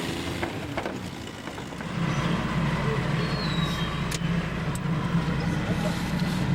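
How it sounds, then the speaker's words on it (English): A car rolls onto a loose, untethered swinging bridge in the Karakoram mountains, with a low engine and tyre rumble that swells and then holds steady and close. "The car's about to go over."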